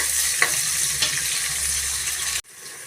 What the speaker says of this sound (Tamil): மீடியம் சைஸ் நாலு வெங்காயம் கட் பண்ணி எடுத்துருக்கேன் சேர்த்துக்கலாம் வதக்கி விட்டுக்கலாம்